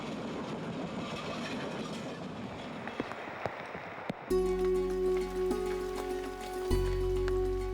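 A passenger train runs along a railway through a rain-soaked forest, starting with a steady rumble and clatter over steady rainfall. It then changes to a louder, sustained mechanical drone with a tonal hum.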